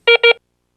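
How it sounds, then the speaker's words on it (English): A Garrett Ace 350 metal detector gives two short, loud electronic beeps in quick succession, then silence. "press and hold the power touchpad for about 5 seconds or until you hear 2 beeps"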